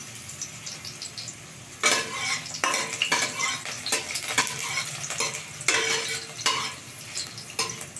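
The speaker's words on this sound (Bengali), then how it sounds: "ফোড়নটিকে ভালো করে ভেজে নেবো" Cinnamon sticks and cardamom seeds fry in hot oil as a spice tempering, a soft sizzle broken by bursts of louder crackling and scraping from a stirring utensil, with no speech.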